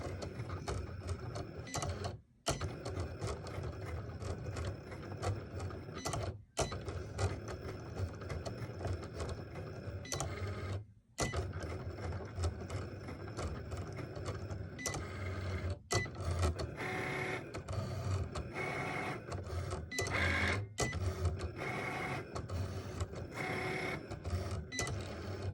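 A Cricut machine cuts stickers, a close steady mechanical whir and rapid stepper chatter with brief pauses between cuts, the motor pitch shifting as the blade changes direction, with no voices.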